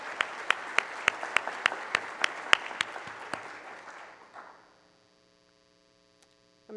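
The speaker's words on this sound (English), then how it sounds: "so we can give them a round of applause" Modest applause at a coffee cupping competition awards ceremony rises from a small audience, with sharp individual claps standing out before the clapping thins and fades into quiet room hum.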